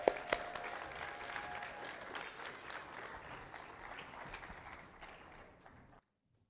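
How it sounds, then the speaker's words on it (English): A church congregation applauds the mothers on Mother's Day, a steady wash of many hands clapping at moderate volume in a reverberant room, a faint tone briefly audible near the start, fading slightly before stopping abruptly. "Let's give a round of applause to all the moms."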